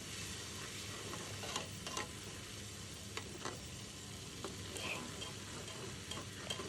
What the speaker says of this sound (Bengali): দিয়ে কিছুক্ষণ নাড়তে থাকবো